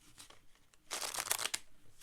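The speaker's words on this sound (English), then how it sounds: "Oh, they shuffle so nicely." Tarot cards are shuffled by hand in a short, crisp riffle of rapid papery flutters, faint at first and then louder for about half a second; no voices.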